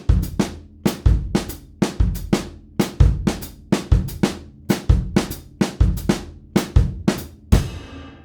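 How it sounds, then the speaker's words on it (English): A jazz drum kit plays a cycling pattern on the ride cymbal with bass drum and snare, roughly one strong hit per beat with shimmering cymbal decay between, close and clear with no talking. "I'm gonna play the same thing on the ride, but I'm going to use a combination of bass drum and snare."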